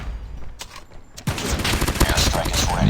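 A BK-57 assault rifle firing in Call of Duty Mobile, a quiet stretch with a few faint shots and then a dense burst of rapid, loud gunfire filling the rest.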